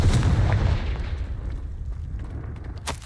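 A Confringo fire-blast spell in Hogwarts Legacy detonates with a loud, close booming blast that rolls off into a fading rumble, followed by a sharp crack near the end.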